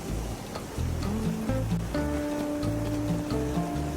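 Steady rain falls over a busy night market in Taichung, Taiwan, a continuous wash of patter with low rumbling and scattered crowd noise beneath it.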